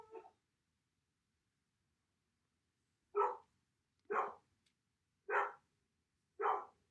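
A little dog barks four times in a steady, evenly spaced run, fairly close and clear against an otherwise quiet indoor room, after a brief faint sound at the start.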